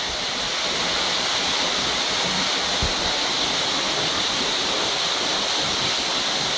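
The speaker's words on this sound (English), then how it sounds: "Waterfall there." A waterfall in the botanical gardens at Ventnor on the Isle of Wight pours with a constant, loud, close hiss of rushing water, and nobody speaks.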